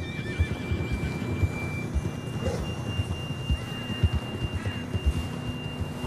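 A horse in Red Dead Redemption 2 snorts and gives a faint whinny over steady clip-clop hoofbeats, close and rhythmic, with a dull background rumble.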